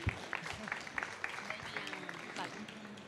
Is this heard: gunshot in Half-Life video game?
no